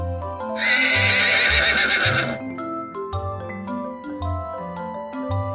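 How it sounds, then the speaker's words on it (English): A horse neighs in a loud, drawn-out whinny with a shaky tremolo, played over a bright children's farm-animal song with steady music throughout. "Horse,"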